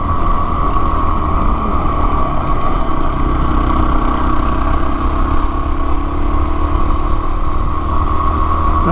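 A motorcycle engine drones loud and steady at close range during a long backcountry ride home, a continuous rumble with a constant mechanical whine and no pauses.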